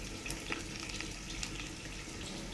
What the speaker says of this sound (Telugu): తాలింపు అనేది మాడుతూ ఉంది కదా